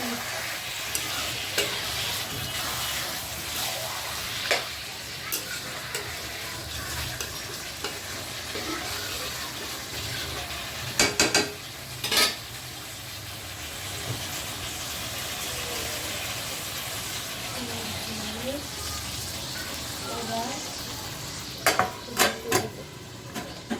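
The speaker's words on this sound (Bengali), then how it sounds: "এই যে মশলাটা কষিয়ে মাংসগুলো ছেড়ে দিয়েছি" Meat frying in a pot of spice masala, a steady sizzle with occasional stirring clinks and scrapes against the pot.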